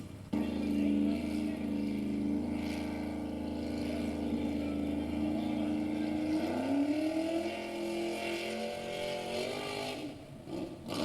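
A radio-controlled vehicle driving at a race event, its motor giving a loud continuous buzzing drone that bends in pitch as it speeds and slows, with faint voices in the background.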